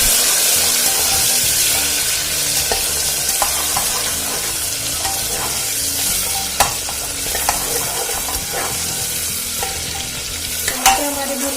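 Tomatoes frying in a pan with chilli and ginger for khichdi pulao, stirred with a spoon: a continuous close sizzle with scattered scraping clicks and knocks of the utensil against the pan.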